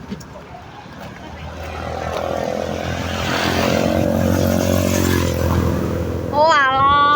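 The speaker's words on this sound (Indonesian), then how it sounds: "Lagi yo motore lagi." Motorcycle engine swelling as it passes close by, rising to a loud roar over several seconds, with voices chattering underneath and a brief whistling tone near the end.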